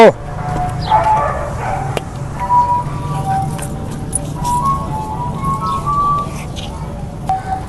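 Dogs bark now and then on a buffalo dairy farm, mixed with people talking and a steady low background hum.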